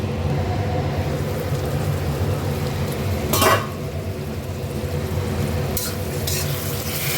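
Shrimp simmering in a covered pan of water, giving a steady low bubbling and cooking hiss with a brief louder clatter from the pan or lid partway through.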